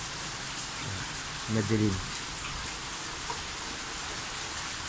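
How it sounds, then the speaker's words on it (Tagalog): Heavy rain pours outside a house by the street on a cold, windy day, a dense and steady hiss that fills the whole moment, with a short spoken word breaking in. "O, tingnan sa labas, o, maulan. Malakas ang ulan."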